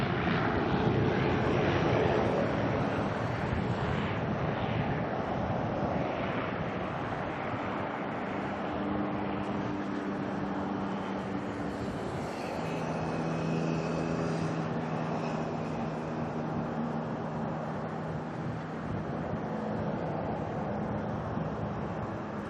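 A Caravan aircraft at Auckland Airport gives a steady, fairly distant engine drone with propeller hum that holds for the whole stretch, with no talking over it.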